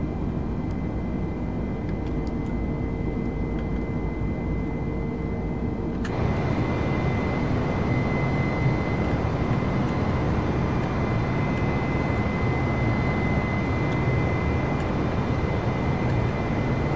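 A simulated Airbus airliner engine in Microsoft Flight Simulator drones steadily, a constant broadband roar that swells louder partway through and holds, with no talk.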